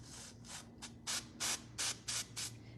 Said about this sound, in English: At the roots, I'll spray kind of far away, if you can see it.